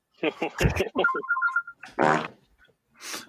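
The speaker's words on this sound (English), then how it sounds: "The fart was actually appropriate that time." A comic fart sound effect blurts out amid lively conversation, with a squeaky, sputtering tone between bursts of voices in a talk show.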